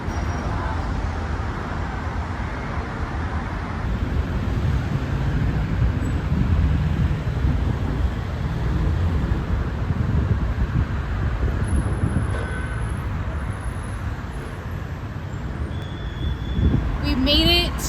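Steady city traffic near the Arc in Romania, with police directing vehicles; a continuous low roadway rumble of cars and buses fills the whole stretch, with people talking over it.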